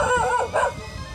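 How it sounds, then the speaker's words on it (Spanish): Dogs in a quiet Cuban village near a dock bark and howl in a couple of short, wavering calls at moderate distance, with faint background noise and no talk. "ya se comienzan a sentir los perros que alertan a los vecinos con sus ladridos"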